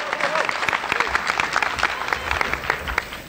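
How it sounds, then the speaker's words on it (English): An audience at a high school commencement ceremony claps in a brief, lively burst of applause, loud and close, with scattered crowd noise mixed in and faint voices underneath. "a round of applause."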